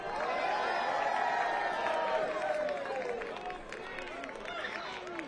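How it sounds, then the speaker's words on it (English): Soccer fans in a stadium at an Orange County SC versus Rhode Island FC match applaud a player, a broad crowd roar with scattered clapping and voices that holds steady, then eases slightly. "Fans applauding Colin Shuttling for good reason."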